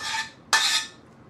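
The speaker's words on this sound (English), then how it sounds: "Get this pot out of the way." A metal cooking pot scraped and knocked as it is shifted aside on a stovetop, two short clattering bursts close and clear with no talk.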